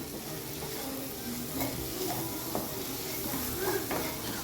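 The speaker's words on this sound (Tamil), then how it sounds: "இப்போ இந்த மசாலாலாம் நல்லா வந்து ஃப்ரை ஆகட்டும்." Masala spices frying in oil, a continuous close sizzle with occasional stirring scrapes and light clinks of a pan.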